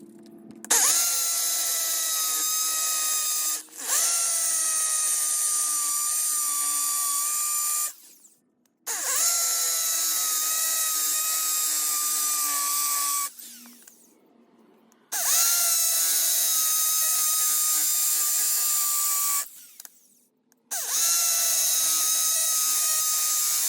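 A power drill grinds into concrete in four long bursts of several seconds each, separated by brief pauses, loud and close.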